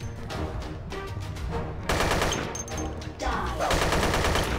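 Gunfire in the sci-fi shooter video game Dead Effect 2 crackles in rapid automatic bursts, fairly loud and up close, with a short break before the shooting resumes.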